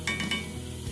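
Sliced zucchini and fresh mushrooms, half-cooked with shrimp, are stirred in a pan: a few quick utensil scrapes and clinks over a soft sizzle, close and fairly quiet, with no talking.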